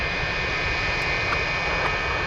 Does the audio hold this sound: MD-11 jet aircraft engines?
yes